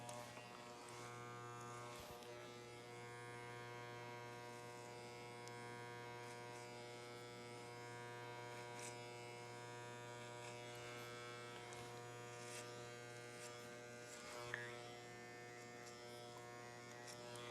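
An electric hair clipper hums steadily while cutting a man's short hair, a constant close buzz with a rich tonal drone running unbroken throughout, punctuated by faint clicks and small shifts as the blade moves through the hair.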